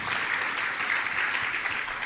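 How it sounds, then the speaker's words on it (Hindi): An audience at a religious question-and-answer gathering bursts into loud, steady applause, dense clapping from many hands that continues evenly throughout. "एक बार जोरदार तालियां"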